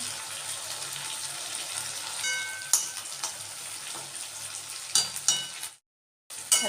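Cabbage for a Bengali fish-head cabbage ghonto fries with ghee in a pan, a soft steady sizzle with occasional clinks and scrapes of stirring, briefly cutting to silence near the end.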